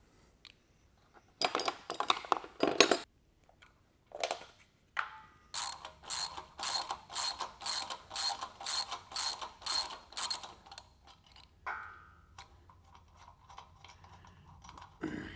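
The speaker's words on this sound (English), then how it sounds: "So pop the cap off and let's take the pulley off." Parts of a Valor Fitness BE-11CB Smith machine counterbalance being handled as its pulley comes off, giving a close run of rapid rhythmic ratcheting clicks between scattered knocks and metallic rattles, with no talking.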